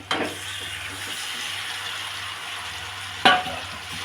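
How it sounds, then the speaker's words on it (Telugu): Marinated chicken dropped into hot oil for dum chicken gives a steady, moderate frying sizzle with stirring scrapes, a sharp clatter near the start and another brief burst later. "మ్యారినేట్ చికెన్ చేసుకున్న చికెన్ని ఇందులో వేద్దామండి"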